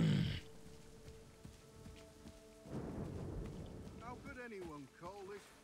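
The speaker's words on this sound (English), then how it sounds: "Ooh, it's raining." Steady rain hisses in a video game, Assassin's Creed III Remastered, with a low rumble of thunder rolling in partway through and scattered louder sounds near the end.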